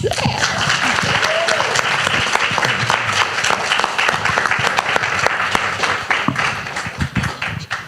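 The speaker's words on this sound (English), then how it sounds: "Can we please give our Del Air Green Team partners a round of applause?" Panel audience applauding the Del Air Green Team partners, loud sustained clapping with sharp individual claps close by, tapering slightly at the end.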